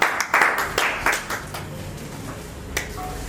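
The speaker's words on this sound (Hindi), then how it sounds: "ये तालियां आपके लिए भी होंगी।" At a Forever Living achievers' event, an audience gives scattered, crisp handclaps for achievers. The claps are loudest at first, then thin out into a few sparse claps and a faint murmur.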